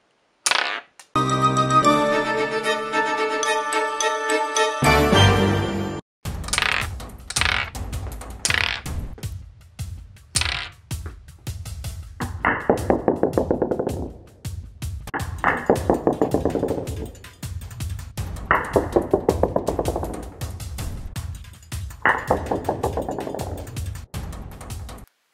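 A handful of magnets and steel balls forming a magnetic Gauss cannon, producing a series of sharp clicks and clacks, repeated in rhythmic bursts after an opening tonal passage, close and fairly loud.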